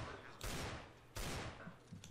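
Two bursts of gunfire in the game CS:GO, each a loud broadband blast that trails off, about 0.7 seconds apart, with a short gap between them.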